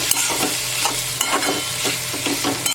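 Cluster beans (guar) stirred in a pan over a low gas flame, a steady sizzle of frying broken by repeated scraping strokes of the spoon, close and fairly loud with no talking.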